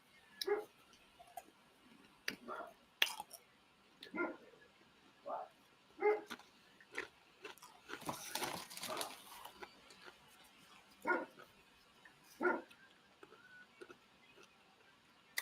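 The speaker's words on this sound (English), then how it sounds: "Dogs are outside barking." Dogs barking outside, roughly a dozen sharp barks in an irregular rhythm over about fifteen seconds, fairly distant and faint, with a brief burst of broadband noise partway through.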